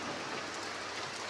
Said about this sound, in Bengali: ভয়ঙ্কর বৃষ্টি শুরু হয়েছে, দেখো জল পড়ছে